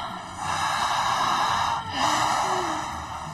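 Slow, deliberate breaths are drawn in and let out during a guided relaxation exercise, two long airy pulses close to the microphone with a soft steady hum beneath them.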